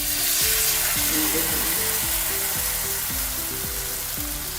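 Vegetable pancake batter sizzles steadily in a lightly oiled pan as it is spread thick, a continuous close frying hiss with tonal scrapes and clinks of a spoon or spatula over it.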